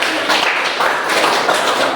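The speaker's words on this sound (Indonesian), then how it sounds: "Ya, tepuk tangan untuk kelompok 1." A classroom of students claps for a group that has just presented, a loud, close, continuous patter of many hands lasting about two seconds.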